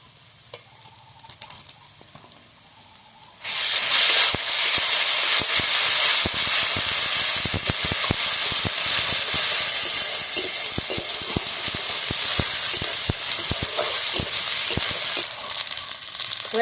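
Ginger garlic paste hits a hot pan of oil while cooking hilsa fish head with taro leaves, bursting into a loud, continuous sizzle with crackling spatter and occasional stirring after a few quiet seconds.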